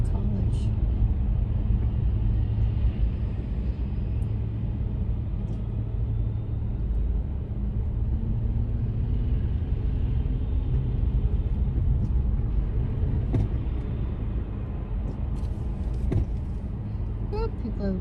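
Cars speed along a Vancouver street, heard as a broad, steady low rumble of passing traffic with a few faint knocks and clicks on top.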